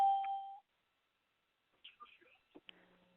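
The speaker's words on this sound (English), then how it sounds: "all those dings and beeps you hear, more and more people joining in on this call" Several short electronic tones and chimes from people joining a conference call sound in a quiet stretch after a brief steady tone.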